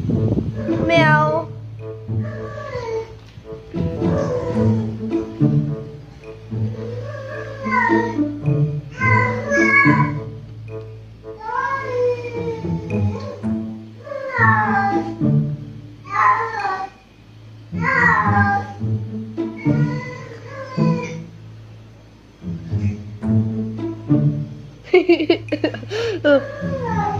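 Repeated cat meows, close and fairly loud, one after another with short gaps, over a steady low hum.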